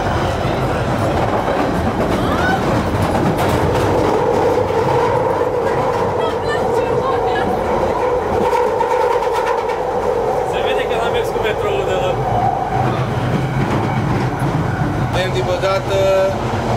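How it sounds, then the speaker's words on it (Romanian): A London Underground metro train runs along the tracks with a loud, continuous rumble and rattle and a rising, falling whine from the motors, while passengers talk over the noise throughout. "Haideți să vă arăt metroul."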